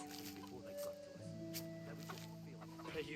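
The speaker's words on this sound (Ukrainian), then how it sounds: "Погодувати курей." Chickens in Kingdom Come: Deliverance cluck softly in a farmyard, brief scattered clucks over a quiet background.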